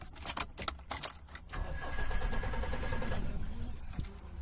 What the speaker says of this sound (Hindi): ये इग्निशन ऑन, करते हैं स्टार्ट